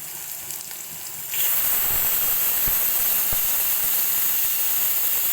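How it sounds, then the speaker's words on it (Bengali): Chopped onions dropped into hot oil with cumin seeds, a sudden jump to a loud, steady hiss that holds, with a few faint clicks and no voices. "হালকা বাদামি বাদামি ভেজে নেবো।"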